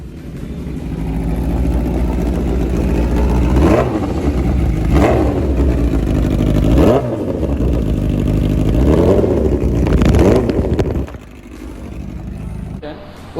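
A Suzuki Hayabusa superbike exhaust is blipped repeatedly, with several sharp rev spikes rising over a loud, steady idle rumble before it drops off near the end, while someone talks alongside.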